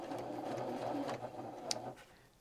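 Sewing machine stitching through the layers of a quilt's binding, a close, steady mechanical whirring run of about two seconds that stops abruptly.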